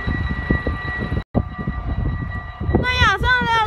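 Train passing in Roermond, a broad rumbling wash of rail noise that runs steadily throughout and ends with a bright, wavering horn-like tone rising over it, with some voices mixed underneath.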